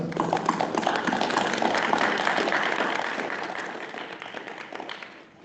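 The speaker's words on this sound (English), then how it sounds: "Let's give them a round of applause." Audience applause at a school board meeting, a steady wash of many hands clapping that holds for several seconds and then slowly thins out.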